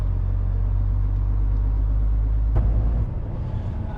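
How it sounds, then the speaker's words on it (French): Heavy truck during a driving exam, a loud steady low engine drone that drops in level near the end, close and continuous with no talk. "on se met droit et on accélère pour ne pas gêner."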